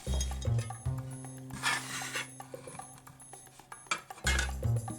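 Leftover Christmas milk chocolate reindeer being broken up for homemade cookie dough, with scattered clinks, knocks and rubbing on a hard kitchen surface in irregular bursts, fairly close, with no talking.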